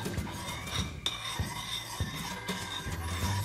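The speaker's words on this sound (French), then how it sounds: "Je mélange." A utensil stirs water in a bowl while mixing a homemade shoe deodorant, giving repeated clinks and scrapes against the bowl in an irregular rhythm, close and moderately loud.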